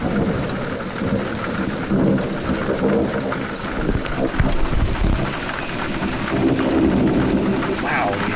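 A summer thunderstorm in northwest England, with steady heavy rain and deep rolling thunder building and fading over several seconds. Loud and close, with a person's voice faintly audible in the background.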